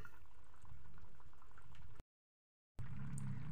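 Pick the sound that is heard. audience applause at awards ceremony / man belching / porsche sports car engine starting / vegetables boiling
vegetables boiling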